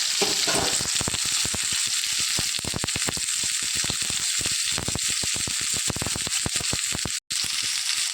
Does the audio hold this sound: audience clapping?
no